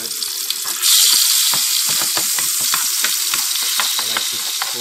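Tomatoes fry in a hot pan with a loud, steady sizzle that swells suddenly near the start and continues close and unbroken, with occasional scraping and stirring clatter.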